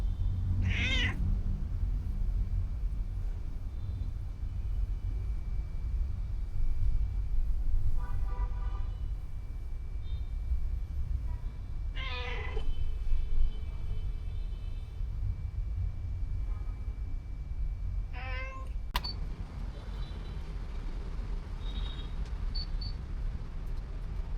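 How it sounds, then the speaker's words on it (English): A cat meows a few times, short soft calls spaced several seconds apart over a steady low background hum. "This is my cat."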